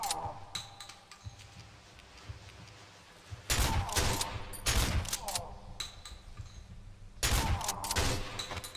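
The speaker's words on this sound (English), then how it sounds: "I started getting shot, I thought he was shooting me from an angle." Gunfire in the horror video game Cry of Fear: a few loud, dense bursts of shots break in over a low background of ticking and clicks, with no voices.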